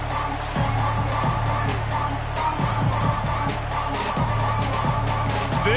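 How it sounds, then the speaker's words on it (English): Football stadium crowd at a Texas Longhorns game, a constant loud roar of cheering fans filling the space, with a commentator talking over it. "This crowd ready to make its presence known."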